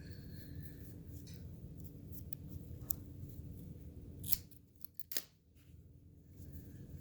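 Scissors snip through yarn during a crochet beanie project, a couple of brief, crisp cuts heard close over a quiet background hiss.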